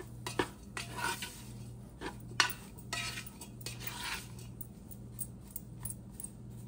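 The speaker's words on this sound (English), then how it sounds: "Once we get our seasonings in, we're gonna just give it a little bit of a stir" Lentil soup in a pot being stirred after seasonings are added, with a spoon scraping and clinking against the metal in an irregular rhythm, close but soft, over a low steady hum.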